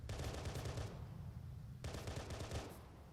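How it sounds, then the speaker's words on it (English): Rapid automatic gunfire in a military shooter game, two loud sustained bursts of fast rattling shots separated by a short pause, close and dominant with no talking. "Guy's shooting at me."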